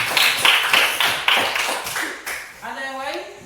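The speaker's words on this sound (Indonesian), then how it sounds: "Kita tepuk tangan untuk Lydia dulu." Classroom of students clapping for a classmate: a short burst of rhythmic claps, fairly close, that fades after about two seconds as a voice begins talking.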